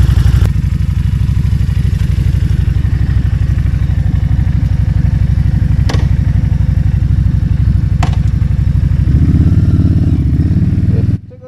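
Orange Victoria Simplee V70 Border Cruise Edition motorcycle on the road, its loud, close engine thrumming steadily, then shifting toward the end as the throttle changes, with a couple of brief clicks along the way.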